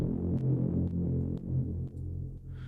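A sustained synth horn tone holds steady with a low, throbbing body, then slowly fades into a long, washy reverb tail.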